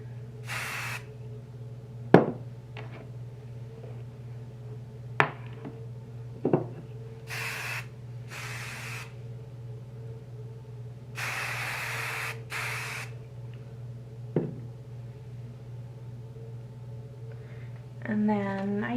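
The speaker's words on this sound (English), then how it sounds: "So I like to spray and then brush through to kind of smooth all the loose hairs." Hairspray is sprayed onto hair during a vintage Betty Grable peekaboo updo. Several short aerosol bursts hiss over a steady low hum, mixed with faint brushing and handling noises.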